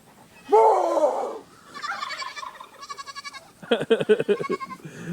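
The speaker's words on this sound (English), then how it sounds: "It's a fainting goat, right?" A fainting goat bleats several times up close, first a long loud wavering cry, then shorter stuttering, pulsing bleats that follow one after another.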